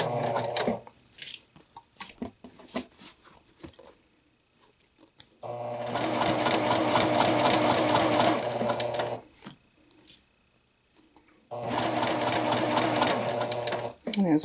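A sewing machine stitches a two-piece collar in three bursts of rapid, rhythmic mechanical clatter, separated by pauses with quiet handling noises and light speech in between.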